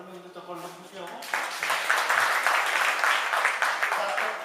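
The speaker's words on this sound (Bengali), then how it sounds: "সবাইকে আপনাদের পক্ষ থেকে করতালি দিয়ে তাদেরকে অভিনন্দিত করলে খুশি হব" At a school cultural program, a speaking voice gives way to a swelling burst of audience clapping from many hands, which holds steady and then begins to thin toward the end.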